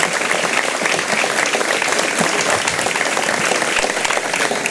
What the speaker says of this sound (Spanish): yo pido otro fuerte aplauso para ella